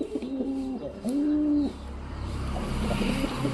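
A pet pigeon coos twice up close, each coo a rolling, throaty call with a short gap between them. Quiet background noise follows, and no one speaks.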